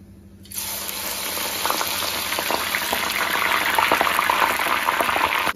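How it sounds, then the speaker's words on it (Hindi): Chopped jackfruit dropped into hot oil in a kadai, a sudden loud sizzle that starts after a brief quiet moment and keeps crackling and bubbling steadily, close up with no talking. "ये देखिए ऑयल मेरा हो रहा है गरम। तो कटहल को जो है वो इसके अंदर डाल देंगे।"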